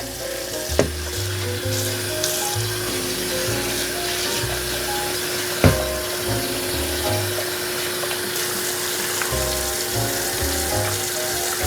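Water runs steadily from a tap while basmati rice is rinsed in a kitchen, a continuous splashing rush with a couple of sharp knocks from handling, close and fairly loud with no talk.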